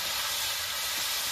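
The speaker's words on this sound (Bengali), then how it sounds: "এবার নেড়ে চেড়ে চাল কুমড়োটাকে ভালো করে ভেজে নেব" Ash gourd fries with salt and turmeric in a pan, giving a continuous soft steamy hiss that stays even for a brief moment, fairly quiet, with no voices.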